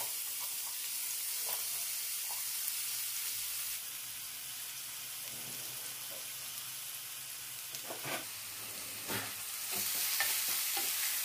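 Chopped onions, green chillies and curry leaves hit hot oil with a steady close sizzle, spoon scrapes and stirring clatter rising over it near the end, no voices.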